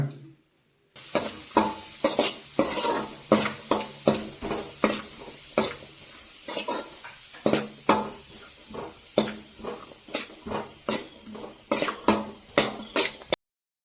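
Chopped onions frying in oil for a dhaba-style egg curry, a constant sizzle punctuated by repeated sharp scrapes and clanks of a spoon stirring against the pan, close and loud, without talk.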